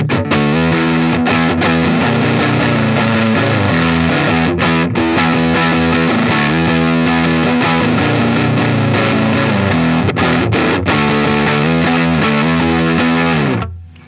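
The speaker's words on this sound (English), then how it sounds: "that's the clean signal into the amp playing through a Hot Rod Deluxe" An electric guitar plays chords and single notes clean through a Fender Hot Rod Deluxe tube amp, ringing and sustained with brief pauses, fading out at the end.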